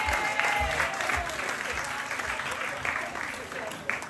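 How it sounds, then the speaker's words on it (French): At an award ceremony honoring champions, the audience applauds the president of l'Aigle Noir. Continuous, fairly full crowd clapping runs throughout, with a few heavier low thumps near the start. "C'est tous les applaudissements de Maman Jarret"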